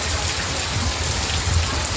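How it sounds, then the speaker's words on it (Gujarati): Heavy rain pours down in a steady, dense hiss, close and loud, with no break and no voices. "ત્યાં કેટલો વરસાદ છે થોડો તો ખરા પાણી પાણી થઈ ગયું"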